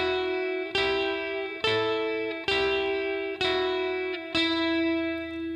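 An electric guitar plays a riff as five separate sustained, effects-coloured notes, each picked cleanly and left ringing before the next, at moderate volume with no talk.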